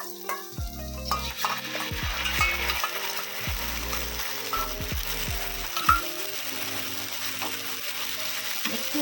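Chicken momo filling sizzles in a pan as pre-mixed sauce is poured in, with low thumping and scraping of a spatula stirring through steady frying crackle; no talking.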